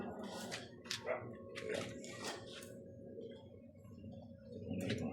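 A dog makes faint, scattered whimpering and huffing sounds over a steady low rumble of background noise, with bursts of hissy noise throughout.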